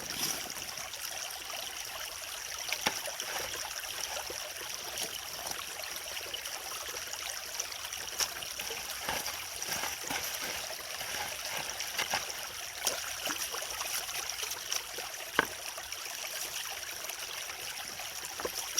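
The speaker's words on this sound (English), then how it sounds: "getting water from the sluice box" Water runs steadily from a sluice box in a gold mining video game, making a continuous soft trickling hiss with small splashes throughout, fairly quiet, with no talking.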